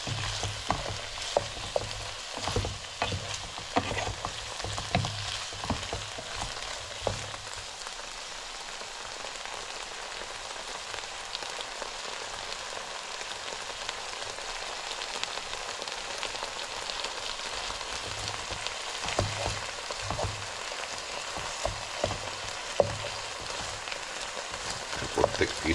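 Onions and garlic frying in a skillet, a steady crackling sizzle with occasional stirring scrapes, moderately quiet and continuous throughout.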